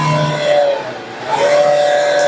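A 2016 Tata Indica diesel engine with black smoke and hunting trouble revs up under the accelerator, a steady close engine drone that swells, dips briefly, then climbs again.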